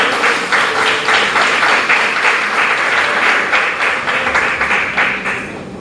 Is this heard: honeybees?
no